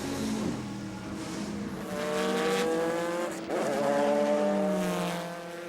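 Race cars roar down the Mulsanne straight at the 2003 Le Mans 24 Hours, including Peugeot-engined Courages and works Corvettes. Loud, high-pitched engines scream past, with rising and falling tones as they pass.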